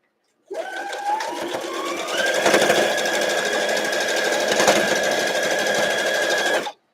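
Home sewing machine running steadily, stitching a foundation paper pieced quilt block at short stitch length, a close, continuous motor whir with a faint rising tone early on, heard alone for about six seconds.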